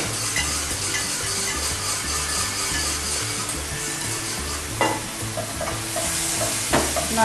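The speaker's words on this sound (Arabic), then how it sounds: "نقلب اللحمة." Minced meat is stirred in a hot pan, a loud steady sizzle with rhythmic scraping strokes of a utensil and a couple of sharp metallic clinks near the end, no voices.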